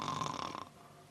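A voice imitates an old witch snoring in a rocking chair, giving one raspy, throaty snore that lasts about half a second and then stops, heard alone at close range.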